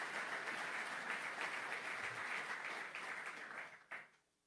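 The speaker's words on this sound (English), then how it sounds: "Let's give ourselves a big round of applause for being able to do this." A conference audience at an energy conference and supply chain expo applauds in a dense, steady wash of clapping that holds for several seconds and then fades out with a few last claps.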